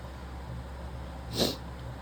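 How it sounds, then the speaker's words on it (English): A single short sneeze burst stands out briefly against a steady background hum, fairly muffled and not very loud. "Sorry, I had to sneeze."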